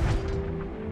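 A ship's cannon fires a cannonball in Sea of Thieves: one short, heavy boom at the start, with a steady ringing tone behind it as it fades.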